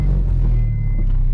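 Honda Integra with a B20 engine swap idling steadily, a low continuous rumble with strong bass and a faint high whine, heard up close from inside the car.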